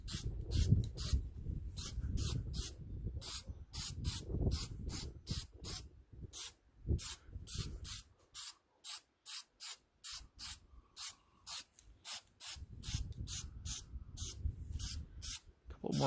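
Spray paint hisses onto a gun stock in a garage in a long run of short, regular bursts, loud and close, with no voices.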